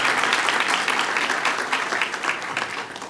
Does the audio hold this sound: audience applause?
yes